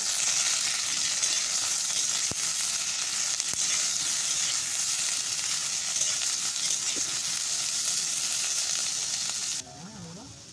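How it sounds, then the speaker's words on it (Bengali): Onion, green chili and garlic sizzle steadily in hot oil in a pan. The frying hiss is loud and continuous with a few sharp crackles, then drops off near the end. "সমস্ত পেঁয়াজ লঙ্কা রসুন সমস্ত কিছু ভাজা হয়ে গেছে"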